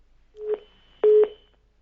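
A phone call cuts off on a Hindi TV news call-in line, leaving a short electronic tone and then a longer beep, clean and alone.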